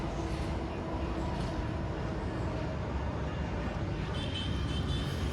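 Metro train riding through a city, a steady rumbling rail and running noise heard continuously from inside the carriage, loud and even throughout with no talking.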